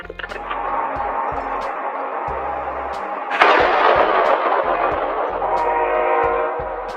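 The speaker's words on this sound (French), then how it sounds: "vous pouvez voir l'explosion du pneu d'un engin de chantier" A construction vehicle's tire suddenly explodes in a loud blast that cuts through a steady mechanical roar and rhythmic clanking, then the heavy engine noise continues.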